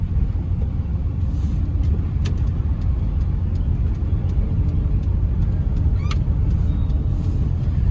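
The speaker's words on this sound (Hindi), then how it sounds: "इंजन की वॉइस भी बिल्कुल स्मूथ है," An overhauled Alto K10 car engine idles with a steady, even low rumble throughout, with a few faint clicks above it.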